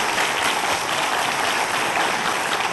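Steady, dense applause from a lecture audience welcoming a natural history museum director to the stage; a continuous wash of many hands clapping, with no talk heard.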